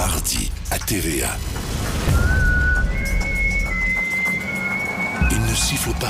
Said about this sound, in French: Il ne siffle pas sans raison.